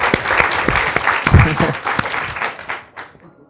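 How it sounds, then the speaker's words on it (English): Audience applause after a speaker's accent at a civic funding talk, a dense burst of clapping that stays steady before thinning out and fading. "could I get a quick round of applause for Rodrigo's silky smooth accent?"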